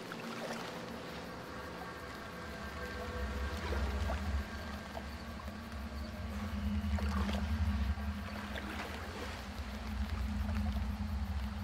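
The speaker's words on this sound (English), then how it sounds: "I thought I heard like splashes then" Faint water sloshing and soft splashes drift through a foggy stretch of the horror game Outlast 2. Quiet lapping swells a little at times over a low, steady ambient drone.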